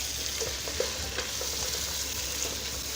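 Finely chopped tomatoes frying with ginger garlic paste in a pan for egg biryani, a steady close sizzle with occasional stirring scrapes.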